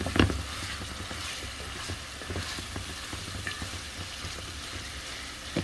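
Beans being stirred in a frying pan while apapransa is made from leftover palm nut soup: a continuous soft sizzle with a thump at the start and light scraping stirs, close and steady, no talking.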